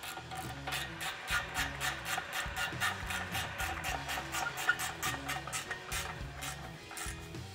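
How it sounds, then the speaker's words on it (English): A 14 mm deep socket tightens the resonator pipe clamp on a 2011-2014 Ford F-150 3.5L EcoBoost exhaust, giving a steady run of rapid ratcheting clicks that continues without a break and without talk. "Switch over to a 14 millimeter deep socket and tighten down the clamp on your resonator pipe."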